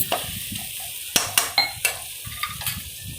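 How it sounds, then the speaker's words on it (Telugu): Tomato and onion fry in a pan on the stove while a utensil stirs them, with a light steady sizzle under sharp clinks and scrapes against the metal, several close together near the middle. "దాన్ని బాగా ఫ్రై చేస్తూ ఉండాలి."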